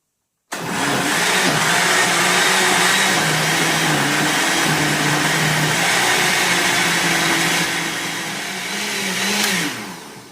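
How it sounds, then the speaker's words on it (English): Chili ingredients whirred to a puree in a food chopper or blender: a loud, steady motor drone running about ten seconds without a break, easing slightly near the end before stopping. "I've chopped that for, I don't know, 3 or 4 minutes. So it's chopped up real nice, so you got a nice puree going there"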